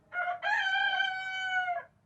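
Roosters crowing: one short call breaks off, then a long drawn-out cock-a-doodle-doo rings clearly and close for nearly two seconds before fading.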